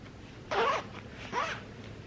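A full-zip jacket's zipper is pulled twice in quick, close rasping strokes, each under a second, with quiet pauses around them and no talking.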